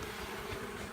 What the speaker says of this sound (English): this is a good sized swarm